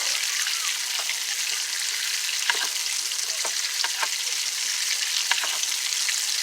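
Garlic frying in a pan alongside boneless pork chops, a steady close crackling sizzle with scattered sharper pops throughout, no voices.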